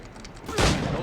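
Gunfire in Assassin's Creed Black Flag: a single broad blast erupts after a quieter stretch of game ambience, followed by a ringing, decaying tail.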